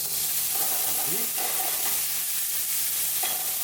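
Grease from a cooking pan sizzles over an open flame for a flame-broiled taste, a steady loud hiss with a few brief squeaks and clinks on top, close and constant throughout.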